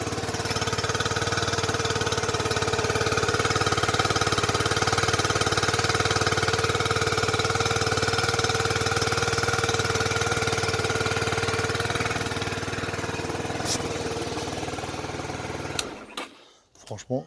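A Honda 125 motorcycle engine idles steadily nearby, a constant low throbbing chug with a mechanical rattle, holding for around sixteen seconds before cutting off abruptly.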